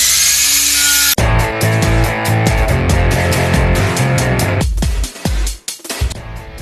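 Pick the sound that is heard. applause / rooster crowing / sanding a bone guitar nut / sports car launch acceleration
sanding a bone guitar nut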